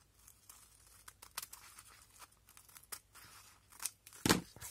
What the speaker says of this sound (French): On va venir y découper ce qui dépasse